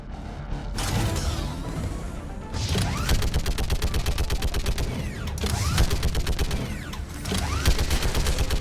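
Heavy weapon fire in the video game Mass Effect 3 during a defence of the main barricade against Reapers, a continuous loud fusillade of rapid mechanical shots with clattering, ratcheting reload noises, nearly unbroken for the whole stretch.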